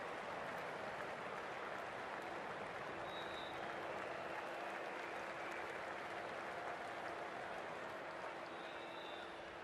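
Crowd applauding in the cricket video game IPL Cricket 24, a dense, steady roar of clapping and cheering that holds at a constant level throughout.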